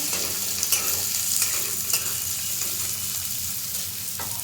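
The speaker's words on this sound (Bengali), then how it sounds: "দিয়ে দেবো এখানে কিছুটা পেঁয়াজ কুচি, দিয়ে এটাকে একটু লালচে করে ভেজে নেব।" Chopped onions frying in a pan, a steady close sizzle with soft stirring scrapes and occasional spatter pops, no voices.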